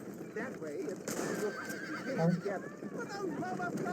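A horse in Red Dead Redemption whinnies and snorts with some hoof clopping, the neighs rising and falling under someone talking in Tamil throughout.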